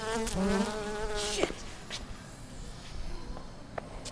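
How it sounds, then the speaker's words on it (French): A zombie wasp in the game Dead Rising gives a loud, close, warbling buzz in the first second and a half, then fades to faint intermittent ticks and thin game ambience. "On va pas affronter une guêpe quand même."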